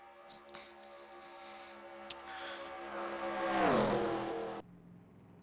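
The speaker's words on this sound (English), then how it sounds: "As you now see the cars coming back down pit lane" NASCAR Cup Series race cars from the 2020 Busch Clash rolling down pit lane at Daytona after the race, a steady engine drone that swells as one car nears and passes, then cuts off sharply.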